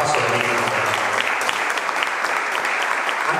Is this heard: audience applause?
yes